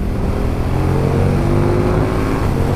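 A 2019 KTM 1290 Super Duke GT with its V-twin engine and standard exhaust, running with a loud, close, deep throbbing note that holds steady throughout.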